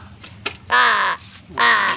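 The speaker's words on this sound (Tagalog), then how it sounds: "ito yung ating uwak na nangangain ng kamay oh" Two loud, harsh caws from a nearby crow, each about half a second long, with a brief pause between and faint clicks before.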